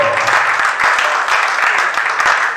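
Audience applause at a Toastmasters women's day event, a loud, continuous round of clapping with sharp individual claps audible within the dense wash.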